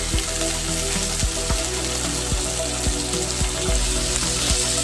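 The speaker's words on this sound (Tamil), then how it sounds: "குழம்புக்கு வெங்காயம் இப்படி தான் வதக்கணும்." Onions sauté in a pan for paruppu urundai kuzhambu, with a steady close sizzle broken by regular tapping scrapes of a spatula about twice a second.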